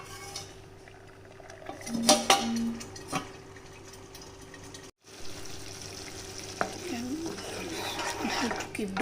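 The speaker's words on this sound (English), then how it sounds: "Can remove it from the burner if the splattering is too much." Paneer butter masala gravy bubbles and spatters in a pot on a hot plate, with stirring clatter and a bright metallic ring early on, a brief cut to silence, then quieter sputtering and scraping.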